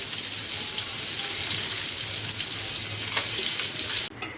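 Tomato chutney sizzles and fries in a pan as a mother cooks, a steady close crackle with light stirring, cut off abruptly at the end.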